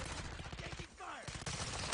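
Rapid gunfire bursts from a first-person shooter video game, dense and loud with clustered shots on both sides of a short lull, while voices talk over the action.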